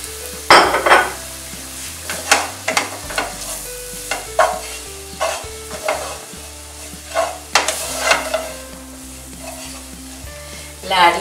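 Flour stirred into a sizzling sauce with dried basil in a pan for a chicken and spinach lasagna: a steady close frying hiss under repeated scraping strokes of a spoon, the scrapes coming in a loose, uneven rhythm.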